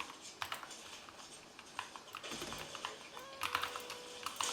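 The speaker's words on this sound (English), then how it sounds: "The keyboard is actually performing not too bad." Rapid clicky typing on a cheap Temu gaming keyboard, fast irregular keystrokes close to the mic alongside faint in-game sounds and a few electronic tones.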